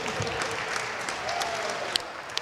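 Applause fills a legislative chamber during an informative session of deputies, a steady, moderately loud wash of many hands clapping with a couple of sharper claps near the end.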